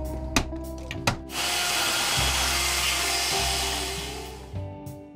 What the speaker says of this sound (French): Pour entailler, je coupe une première fois pour suivre le trait et une autre fois pour la profondeur.